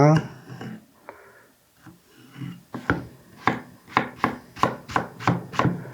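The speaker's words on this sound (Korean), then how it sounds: "2, 3mm 간격으로 썰어 놓겠습니다." Knife slicing a vegetable into thin 2–3 mm pieces on a cutting board, heard as a steady run of crisp, evenly spaced chops in the second half after softer handling sounds, close and fairly loud, with a voice speaking at the start.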